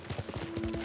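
Horse hooves clop in a quick, steady gallop rhythm during a ride in the samurai video game Ghost of Tsushima, close and moderately loud, with no talking over them.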